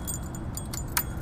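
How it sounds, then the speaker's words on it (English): Keys for a 1980 Yamaha XS850 motorcycle jangle lightly in a few quick metallic clinks as they are picked up, with a brighter chink near the end over low background hum. "There's the keys."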